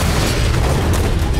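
A massive explosion aboard a warship during the Pearl Harbor attack, heard as a loud, sustained, dense roaring blast filling the whole clip without a break.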